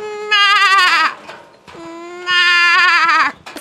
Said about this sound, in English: Cutest little goat I ever did see.